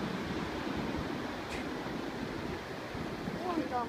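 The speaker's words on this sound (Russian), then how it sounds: "Вот волны." Sea waves washing onto a Bali shore make a steady broadband roar with wind buffeting the microphone, continuous and fairly close, and a faint voice comes in near the end.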